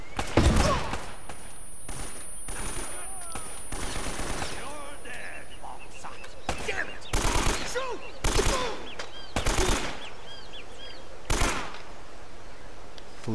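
Gunfire in the game Uncharted, loud sharp bursts of shots repeating every second or two over game ambience, with a player speaking at times between the volleys.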